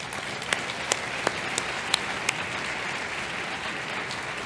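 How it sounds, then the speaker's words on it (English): Steady applause from a lecture audience welcoming a speaker on stage at an evening scientific society lecture, a dense even patter of many hands with a few sharper individual claps standing out, filling the whole moment without talk. "please join me in a round of welcoming applause"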